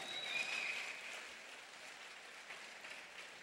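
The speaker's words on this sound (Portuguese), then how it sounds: "salva de palmas para os meninos aí." An audience claps for a group of boys at a spoken-word church gathering: a soft, steady patter of many hands that runs the whole stretch, slightly fuller at first and then evening out, with no voices over it.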